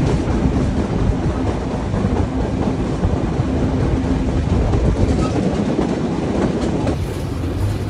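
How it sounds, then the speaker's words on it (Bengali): The Ruposhi Bangla Express runs through Jhikargachha station in Jessore, with a loud continuous rumble and rattling wheel clatter heard from on board, steady throughout without voices. "এই মুহূর্তে আমাদের ট্রেন থ্রুপাস করে বেরিয়ে যাচ্ছে যশোর জেলার আরও একটি স্টেশন, ঝিকরগাছা স্টেশন।"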